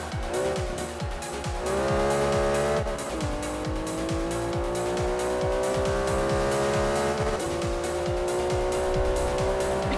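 Tyres squeal under heavy braking on a supercar in Forza 5, a sustained screech over a loud racing engine with steady rhythmic thumps, lasting throughout.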